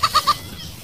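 A goat on a small farm bleats three times in quick succession, short and fairly close, over a quiet outdoor background.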